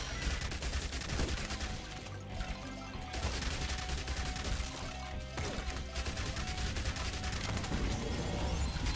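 Dense, continuous gunfire from the zombie survival game Yet Another Zombie Survivors, with a pump-action shotgun among the weapons, firing loudly and without pause under layered game music and effects, briefly thinning near the third and fifth seconds.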